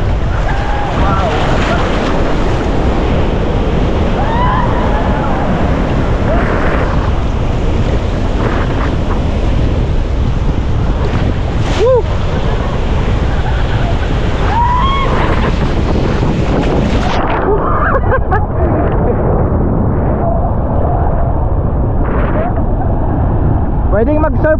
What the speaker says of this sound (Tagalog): Lalaki talaga ng alon.